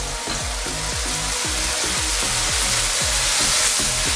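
Carbonara pasta being stirred in a wok with its sauce, a steady wet sizzling hiss with rhythmic scraping strokes repeating every half second or so, close and continuous.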